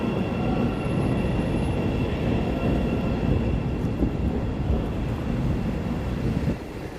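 Loud, continuous rumble of a short four-car Chicago Pink Line elevated train passing nearby, with steady rail noise and a faint high squeal early on before the roar eases slightly at the end.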